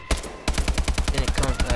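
Rapid automatic gunfire in Call of Duty Advanced Warfare multiplayer: a brief pause, then a steady, loud, evenly spaced burst of shots running to the end.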